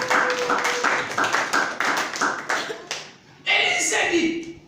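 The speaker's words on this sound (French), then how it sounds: "Acclamer pour la gloire de l'Éternel." A church congregation claps in rhythmic acclaim during a sermon, with a series of sharp, evenly spaced handclaps that ring out loudly. A voice then speaks over the claps as they fade.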